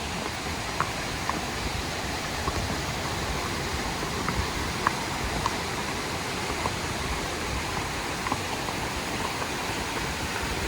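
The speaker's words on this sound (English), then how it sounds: "you can hear the sound of the water. It's really rushing and crushing" The Middle Prong mountain stream in Great Smoky Mountains National Park rushes loudly and constantly, a dense, unbroken roar close by, with faint small clicks scattered through it.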